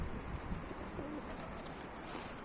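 A miski pigeon takes off amid steady outdoor background noise, with faint coos and bird calls, no talking.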